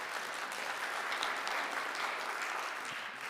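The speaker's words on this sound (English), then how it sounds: "So big round of applause for him as well." An audience applauds steadily at a community forum held in a Presbyterian church, a dense, even wash of clapping that holds for a few seconds at moderate volume, without voices.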